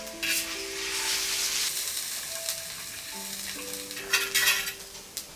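Ginger and garlic paste sizzles and spits in hot coconut oil in a pan, a steady close frying hiss with a few sharper crackles and stirring scrapes toward the end.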